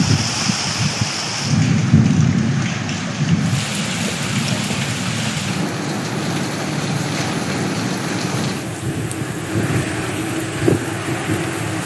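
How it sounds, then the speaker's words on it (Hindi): Heavy rain pours steadily during a storm in Punjab, with a deep rumble of thunder rolling in early on, loud and close, and a constant hiss of raindrops on surfaces throughout. "लाहौर समेत पंजाब के कई शहरों में बारिश।"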